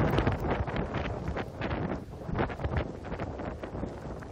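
Heavy rain and gusty wind from Typhoon Pepito in Baguio City, a loud rushing roar buffeting the microphone in uneven gusts, continuous and close, with no voices.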